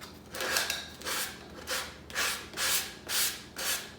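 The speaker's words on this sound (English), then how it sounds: "just take a sanding block and just kind of sand it off" A sanding block rubs along the edge of a wooden plaque in about six rhythmic, scratchy strokes, each swelling and fading, close and fairly quiet with no talking.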